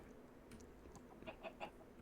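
Chickens in Minecraft give a few soft, quick clucks near the end over faint game ambience, quiet and without speech.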